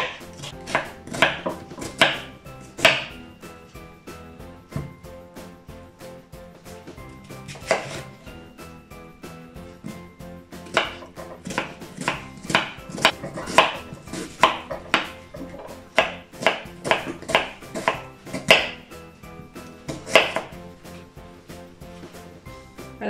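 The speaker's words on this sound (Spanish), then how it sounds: "Ahora nuestra cebolla la vamos a cortar de esta forma" Knife slicing an onion into thin julienne strips on a cutting board for pickled jalapeños, with rapid, close, crisp chops in bursts and brief pauses between runs.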